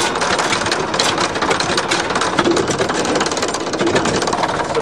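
A farm tractor's diesel engine runs close by with exhaust leaks, a continuous loud rough clatter with fast rhythmic ticking and puffing over a steady rumble.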